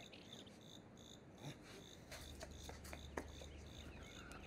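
A large katydid chirps in a steady, high, buzzing trill that repeats evenly, with faint scattered clicks and rustles around it and no speech.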